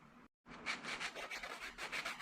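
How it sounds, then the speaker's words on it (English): A foam sandpaper block is rubbed quickly back and forth over the edges of a sheet metal funnel, making a close, rhythmic run of raspy scrubbing strokes after a brief pause. "So these foam sandpaper blocks, they work pretty good."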